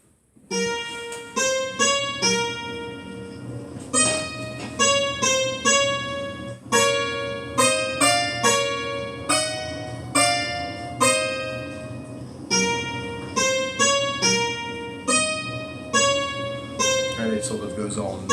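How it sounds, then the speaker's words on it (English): Developer's rough sketch of the Geisterland ghost theme, video game music: a steady run of bright, bell-like synth notes in repeating phrases over a soft sustained low backing, playing continuously at even loudness. "this is the ghost theme in Geisterland"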